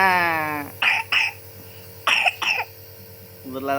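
A young child with a cold and cough coughs in two close pairs of short, harsh bursts, separated by quiet pauses, with brief vocal sounds at the start and end.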